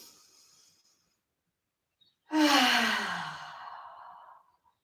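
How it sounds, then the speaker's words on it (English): A single deep breath: a short faint inhale, a pause, then a long, loud exhale through the mouth that trails off, heard close and alone during a yoga session. "Inhale, exhale through your mouth."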